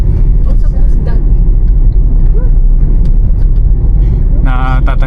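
A Hyundai Reina with a manual transmission climbs a steep uphill road, its engine giving a steady, loud rumble throughout, with a brief tonal whine near the end and a voice talking over it.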